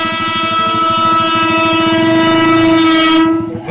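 A KRL commuter train, JR 205 series in an eight-car set, passes close by with a loud sustained horn blast over the rolling clatter of wheels, the horn cutting off near the end.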